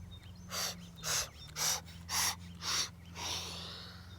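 Five strong, rhythmic nasal breaths in a Bhastrika yoga breathing exercise, evenly spaced about half a second apart and ending in a longer exhale, close and clear over a low steady hum, with no talking.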